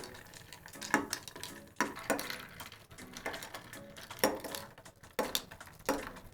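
A spoon quickly stirring freshly built mojitos with club soda in glasses, producing repeated clinking and scraping strokes in an irregular rhythm, close and clear with no talk.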